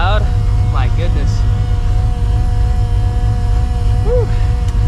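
A loud, steady low engine drone from a 600HP Procharged New Edge Mustang GT fills the clip up close, with a voice speaking over it.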